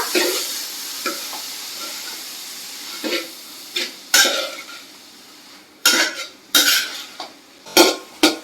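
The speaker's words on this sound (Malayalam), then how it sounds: "ഈ കറിക്ക് വെള്ളം തൊടുകയേ ചെയ്യരുത് കേട്ടോ വെള്ളത്തിൻ്റെ ആവശ്യമില്ല ഒന്ന് ഇളക്കി കൊടുക്കുക" A vegetable curry is stirred in a pan with no water added, giving scattered scraping and clinking strokes of a spoon against the pan over a faint background, with louder bursts near the end.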